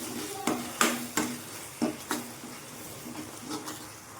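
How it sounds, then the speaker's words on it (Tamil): A spoon scrapes and stirs through thick masala in a pan for mushroom capsicum gravy, with a series of irregular strokes over a faint, steady sizzle. "இப்போது மசாலாலாம் சேர்த்து ஒரு கிண்டி விட்டுடலாம்"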